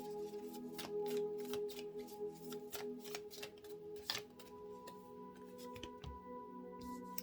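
A tarot deck being shuffled by hand produces a steady run of crisp, rapid card flicks and riffles, close and clear, with brief slaps as the cards settle, and no voices.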